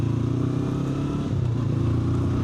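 A 2025 Honda NX500 motorcycle with a slipper and assist clutch being ridden, its engine a steady low drone with slight shifts in pitch, loud and close with constant wind noise.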